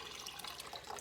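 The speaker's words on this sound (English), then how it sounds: "gonna have to add some water" Water poured into a cooking pot while making lasagna soup, a steady close splashing stream that runs the whole short moment with no talk.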